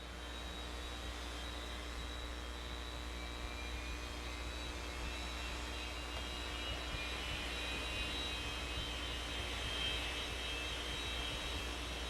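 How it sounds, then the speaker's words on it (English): The jet engine of a jet dragster at a drag racing event, the Rocky Mountain Nationals, being lit and spooling up, a steady faint whine and rushing roar that grows slightly louder toward the end, with no talk. "These are jet engines after all. He's going to get the fire going in one."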